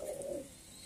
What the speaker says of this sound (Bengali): দেখতে পাচ্ছেন এটা হচ্ছে টেলমার্ক নামক কবুতর